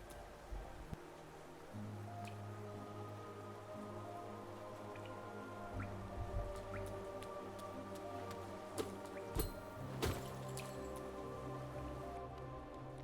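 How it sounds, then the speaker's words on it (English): Steady rain ambience from the video game Hollow Knight: a soft, continuous hiss of rainfall with scattered drips and ticks, under faint sustained game music and no speech. "The way the rain just envelops everything, and when you're deeper in the buildings, it's more muted."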